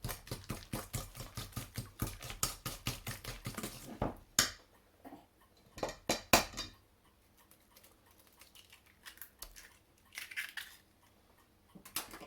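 Eggs cracked one at a time into a lemon drizzle cake batter and mixed in, giving rapid rhythmic tapping and scraping of a utensil against a bowl, close and fairly loud, then quieter intermittent stirring and clinks.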